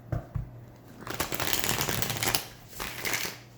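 Tarot cards are shuffled by hand, a few quick riffling flicks giving way to a dense, continuous rustling and fluttering of the deck, close and moderately loud with no talking.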